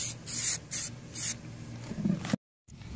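Gloss Plasti Dip hisses from a spray can in three short close bursts onto go-kart wheels, followed by softer rubbing sounds and a brief cutoff into silence.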